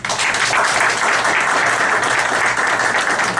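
Seminar audience in Brazil applauding a doctor being called up to the panel table, loud, dense and continuous clapping that fills the room without a break.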